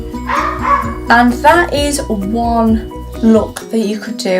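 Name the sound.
dogs barking behind a door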